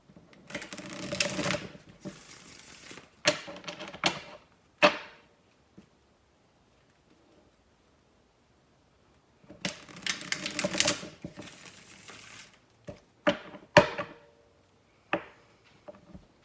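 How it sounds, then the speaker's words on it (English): Tarot cards are shuffled by hand in two bursts of quick, crisp riffling and flicking, close and fairly quiet, separated by a stretch of near silence with a few isolated taps and snaps. "I'm going to shuffle, okay?"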